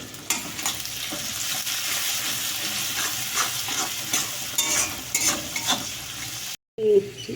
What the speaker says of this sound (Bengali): পেঁয়াজটাকে একটু ভেজে নেবো লাল লাল করে একটু এর মধ্যে নুন দিয়ে দেবো